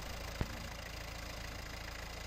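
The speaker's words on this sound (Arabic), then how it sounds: "وصوت المحرك هل هو طبيعي هيك" A newly installed car engine idles with a steady, even drone throughout, with one brief click early on and no voices.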